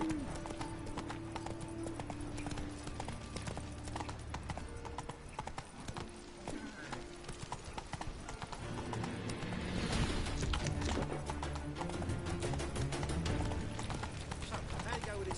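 Roach, a horse in The Witcher 3, galloping with rapid rhythmic clip-clop hoofbeats, steady and close under a game music score, with a voice speaking over part of it.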